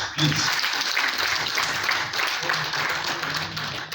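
Steady applause from a crowd at an Engineers Day ceremony fills the whole stretch, dense and continuous with a faint murmur of voices beneath it.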